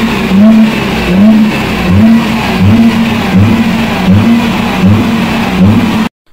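A Nissan racing car engine revs loudly in repeated rising pulses, each surge following quickly after the last, then cuts off at the end with no voices over it.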